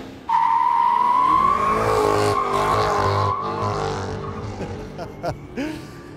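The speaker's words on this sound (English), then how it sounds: "That was the CT5-V Blackwing by Cadillac, 668 horsepower and a manual gearbox" Cadillac CT5-V Blackwing, a 668-horsepower sedan with a manual gearbox, driving hard: a loud, sustained engine note climbs steadily and then eases off, with tire noise and short gear-change dips near the end.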